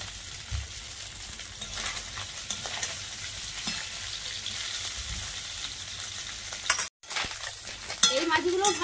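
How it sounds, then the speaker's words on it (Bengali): Small mourola fish frying in oil in a pan, a steady close sizzle with occasional stirring and utensil scrapes, a brief dropout near the end before the frying resumes louder. "মাছটা আর একটু তেল দিয়ে ভেজে নেব।"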